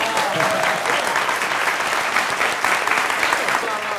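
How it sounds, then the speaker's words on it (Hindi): Dense, sustained applause from a large crowd at a political speech, loud and continuous with a few voices mixed into the roar of clapping. "तालियां बजाइए"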